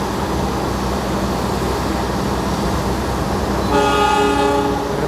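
Taksaka passenger train at an Indonesian station, with a steady rumble of rail noise throughout and a loud, sustained horn blast sounding near the end.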